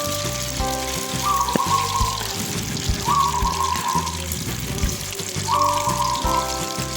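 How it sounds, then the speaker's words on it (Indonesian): Small pieces of flour dough sizzle steadily in hot oil, a dense continuous crackle and bubbling, with faint background music tones over it. "Nah, goreng sampai kuning keemasan ya."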